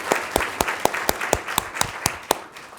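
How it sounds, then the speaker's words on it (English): Applause for a kindergarten teacher at a school board of education meeting: a small audience clapping with sparse, distinct claps in a loose, steady rhythm, moderately near and heard alone without talk. "please give her a round of applause"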